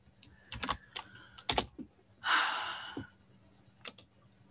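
Quick bursts of keystrokes on a computer keyboard, clustered taps with pauses between, plus a soft sigh or breath partway through, close and clear in a quiet room.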